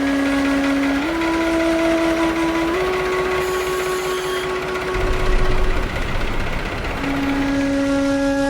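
A tractor engine runs steadily as it is driven away, a loud droning hum whose pitch steps up and down as the revs change, with a brief rumbling surge partway through and no talking.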